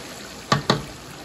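A spoon stirs okra sauce with paprika in a pot, giving two quick, close knocks against the pot over a quiet background.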